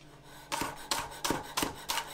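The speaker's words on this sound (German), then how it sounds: "Ich will so ein bisschen Frühstückszwiebeln damit drauf machen. Die schneide ich jetzt mal eben ein bisschen klein." A knife cuts small breakfast onions on a board, five crisp evenly spaced chops about every third of a second, close and fairly quiet with nothing else around.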